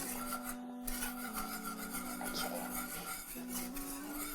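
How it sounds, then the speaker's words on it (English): A whisk rasps and scrapes steadily against a pot as dry okra powder is stirred in over low heat, a close, fairly quiet rubbing sound with a faint steady hum behind it. "I'll just whisk in my dry okra"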